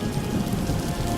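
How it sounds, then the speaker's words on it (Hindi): Heavy downpour of rain falling, a dense, steady hiss and patter that stays loud and unbroken throughout, with no voices. "पवन मूसलाधार बारिश को देखकर बहुत परेशान हो जाता है"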